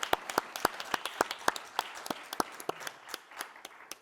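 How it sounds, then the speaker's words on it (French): Sparse, distinct hand claps from a small audience at the Label Bouge 2021 award ceremony honoring the Nantes metropolitan area, individual sharp claps scattered irregularly over a few seconds rather than a full ovation. "Je peux l'applaudir."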